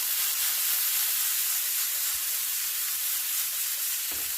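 Vegetables and herbs with all-purpose Sazon seasoning sauté in a pan, giving a steady, soft broadband sizzle that runs evenly throughout, with a couple of faint low knocks near the middle and the end.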